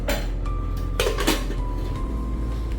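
A pressure cooker lid is closed in a home kitchen, giving a few metallic clanks and knocks of pot and lid over a low steady hum.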